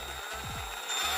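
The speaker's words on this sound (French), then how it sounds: "On appuie sur la perceuse" A power drill turns a cable during a Renault R12 restoration, giving short whirring bursts with a quick pitch sweep partway through, close up and with no talk.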